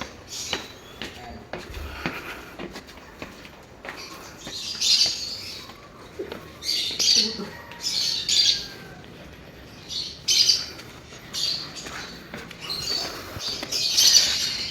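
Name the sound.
birds squawking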